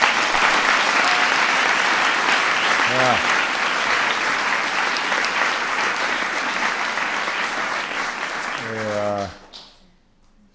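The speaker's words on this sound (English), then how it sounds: "Give them a big round of applause." Sustained, loud audience applause at a White House science fair, steady clapping for about nine seconds with brief vocal calls over it, then dying away quickly at the end.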